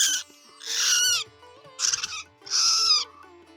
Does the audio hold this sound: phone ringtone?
no